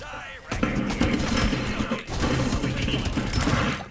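Shotgun blasts and gunfire in the Farlight 84 shooter, a burst of dense, loud shots with crashing impacts over about three seconds, dipping briefly midway before resuming.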